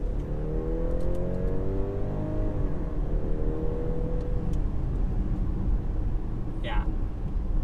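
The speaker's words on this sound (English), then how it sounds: "So 0 to 60 in under 6 seconds. Let's find out just how accurate that is." A 2020 BMW X3 30e plug-in hybrid SUV accelerates hard from a standstill toward 60 mph, its engine and road noise rising steadily in a loud, continuous sweep with a brief squeak near the end.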